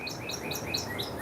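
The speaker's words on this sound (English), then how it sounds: "we're just listening to the birds" Birds chirp and tweet outdoors in quick, repeated high calls over a steady windy rumble, with the weather beginning to pick up.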